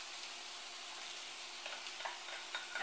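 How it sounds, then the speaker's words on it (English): Ground beef and onion browning in a pan for pastitsio, a faint, steady hiss of sizzling with a few light crackles toward the end. "I'm going to brown these until the ground beef is cooked"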